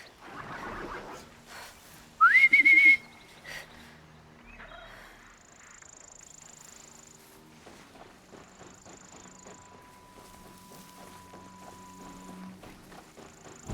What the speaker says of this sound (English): Pretty loud whistling.